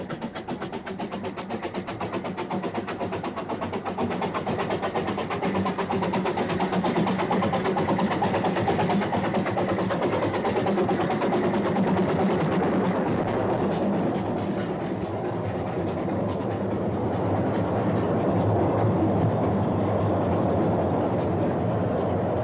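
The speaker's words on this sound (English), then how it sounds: "Soon the last train of the day is climbing hard through Penryn Station." Ffestiniog Railway train, the last of the day, climbing hard through Penrhyn Station with a continuous heavy rumble and steady rhythmic working that swells and holds loud throughout, with no voices.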